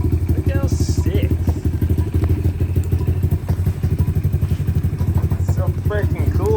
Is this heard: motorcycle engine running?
yes